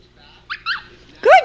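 Dogs bark in a few short, sharp bursts, the last one louder and closer, in a home setting with a pet Quaker parrot nearby.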